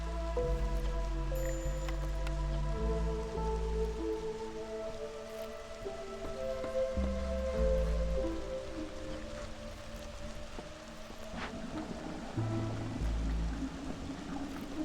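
Rain in the video game Against the Storm, a steady wet patter and dripping layered with sustained musical tones from the game's soundtrack, continuous and even throughout.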